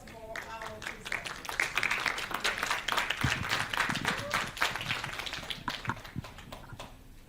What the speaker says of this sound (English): let's have a round of applause for our presenters